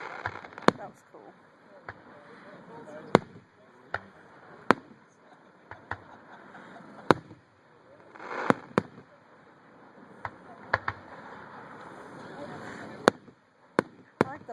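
Fireworks at a Texas show in Leonard burst at a distance, sharp isolated bangs spaced every second or two over a low steady rumble, with spectators talking quietly in between.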